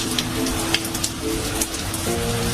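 Steady rain hissing and pattering on a surface, continuous and fairly loud, with faint background tones underneath and no voices.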